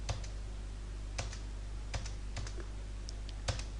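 Computer keyboard keys tapped during accounting data entry in Tally software, repeated Enter presses as sparse, crisp clicks at an uneven pace over a steady low electrical hum, with no talking.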